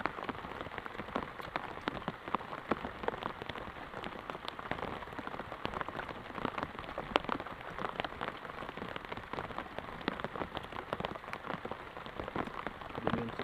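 Heavy rain falls steadily on surfaces around an outdoor cooking spot where rice is being prepared, a dense, continuous patter close by with no voices.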